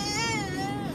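A little daughter cries and whimpers after being picked up, a high wavering wail held close and loud through the whole moment, with no words spoken.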